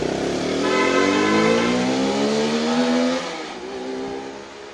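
KTM motorcycle with freshly replaced clutch plates accelerating hard, engine pitch rising through the gears in a loud, close whine, then easing off as it pulls away.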